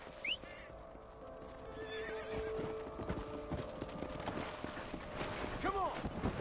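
Horse hooves clip-clopping and a sharp neigh in the Western video game Red Dead Redemption, quiet and set against a background music bed, with faint gunfire-like pops and someone talking over it.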